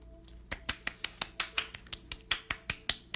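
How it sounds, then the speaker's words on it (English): Audience members snap their fingers in place of applause after a spoken story, giving a steady series of crisp snaps about three per second, moderately loud, with no talk over them. "Everyone use your clicky thing to do the clapping thing for Nick."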